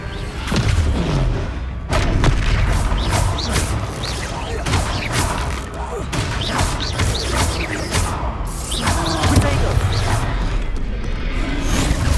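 Heavy booming crashes and thuds from the Descendo spell in Hogwarts Legacy, a dense run of loud impacts and rumbling debris sustained throughout, with spell effects and game sound layered together.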